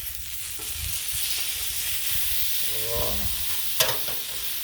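Tri tip sizzles loudly and steadily on a Blackstone griddle just after a flip, with a few scraping spatula strokes midway and a sharp clack near the end, close and without talk.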